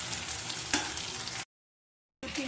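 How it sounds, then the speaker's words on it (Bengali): Potato peels coated in cornflour frying in hot oil give a steady sizzling hiss with one sharp clink. The sound cuts out abruptly, then the sizzle returns briefly. "তেলের মধ্যে আমি সব দিয়ে দিলাম আলু চোকলাগুলো, দিয়ে বা একটু ভালো করে নেড়ে দিতে হবে"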